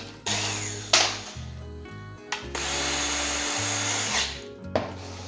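A power drill drives a screw into a melamine drawer. The motor whines in loud, close bursts separated by short pauses, and there are small clicks and bumps between the runs.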